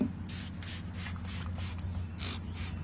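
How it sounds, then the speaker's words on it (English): Short hissing bursts of water from a handheld spray bottle, about eight quick spritzes in a steady rhythm, close and fairly soft over a low background hum. "Alright, so I've got a spray bottle of water."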